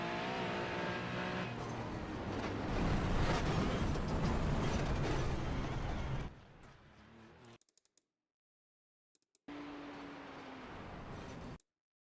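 A race car engine roars at the Nurburgring in the iRacing simulator, loud and revving for six seconds, then drops to a softer drone, cuts out, and returns briefly at steady pitch.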